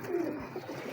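A single pigeon gives a low, soft coo, brief and faint, close by with no talk.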